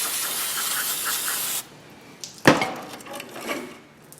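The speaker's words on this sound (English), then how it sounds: "Hose off some of the junk here." Water spray hisses loudly onto front brake parts of a Dodge truck for about a second and a half, then stops abruptly, followed by quieter clanks and rustling nearby.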